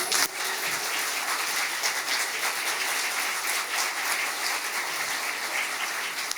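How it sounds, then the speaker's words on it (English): Sustained, dense applause from the crowd at a Nerd Nite talk on breathing, a continuous wash of many hands clapping at even loudness for over six seconds, with no speech on top. "Let's give Dee another round of applause."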